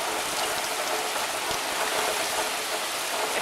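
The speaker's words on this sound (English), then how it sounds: "here is the rain" Rain pours steadily outdoors, a dense, even hiss of drops with no letup, moderately loud and with no one speaking.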